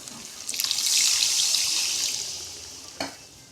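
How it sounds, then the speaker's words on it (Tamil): Water poured into a pan of cooking tomato curry makes a loud rushing splash and hiss that builds quickly, then fades, followed by a short sharp splash near the end. "இப்போ நம்ம தேவையான அளவு தண்ணி ஊற்றிக்கலாம்"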